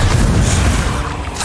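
A Bombarda exploding spell goes off in Hogwarts Legacy, one loud, rumbling low boom filling the short moment before fading out.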